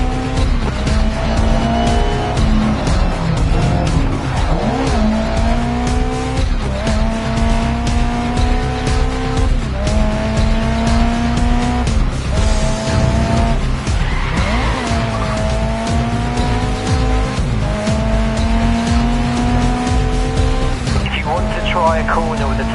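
A race car in the Grid racing video game revs hard and slides through a corner on the handbrake, its engine rising and falling over long tire squeal; loud, close and continuous, with game music underneath.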